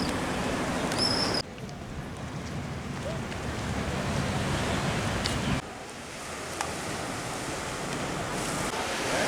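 Waves roll onto the beach at Monterosso in Cinque Terre in a continuous surf wash, with wind buffeting the microphone. Loudness shifts at a couple of abrupt cuts, and there is no talking.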